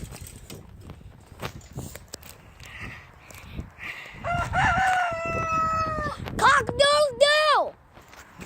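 A rooster crows loudly nearby, one long strained call that breaks off at the end, after scuffling and rustling from a flock of chickens, with a person's voice heard close by.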